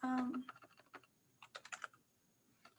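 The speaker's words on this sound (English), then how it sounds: "y'all are all watching me type, and I got a new keyboard" Someone types on a new computer keyboard with a quick run of crisp, close keystrokes that come in short uneven bursts after a brief voiced sound at the start, then a pause and a few final taps.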